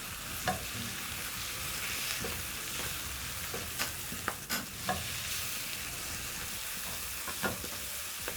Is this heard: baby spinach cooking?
yes